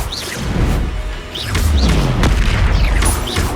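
Bombarda spell explosions in the video game Hogwarts Legacy land as loud booming blasts with crashing impacts and whooshing casts, several in a row over a couple of seconds, close and without speech.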